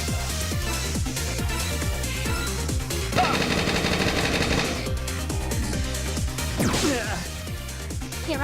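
Rapid gunfire bursts in the tactical game Lost Dimension, loud and steady with sharp impacts and a whooshing sweep midway, layered over game music and effects.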